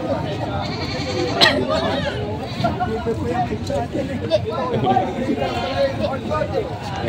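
Native goats bleat repeatedly amid a crowded livestock market in Padre Garcia, Batangas, their calls overlapping with steady chatter and bargaining voices close by.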